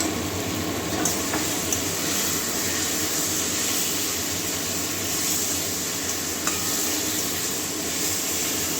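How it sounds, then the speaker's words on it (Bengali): Spices being fried and stirred in a pan with potato and green banana for a Bengali curry, a steady close sizzle with faint scraping stirs and a few soft clinks throughout, no talking. "মশলা সঙ্গে ভালো করে কষিয়ে নেব"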